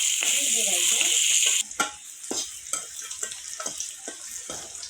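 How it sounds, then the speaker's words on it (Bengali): Potatoes fry in hot oil with a loud, even sizzle for about a second and a half, then it cuts off, followed by scattered scrapes and knocks of stirring in the pan. "এখন আমি ভেজে নেব আলুটা"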